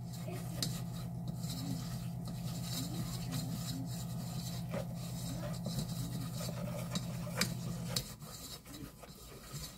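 A spoon stirs melted butter into flour in a pan for scalloped potatoes, a steady close scraping and rubbing that goes on for about eight seconds over a low hum and then stops.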